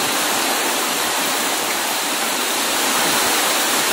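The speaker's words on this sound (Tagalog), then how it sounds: "Patuloy pa rin ang pagtaas ng tubig baha dito." Steady, loud roar of rushing flood water from a typhoon pouring along without a break, a dense wash of sound with no voices, in Burdeos, Quezon, Philippines.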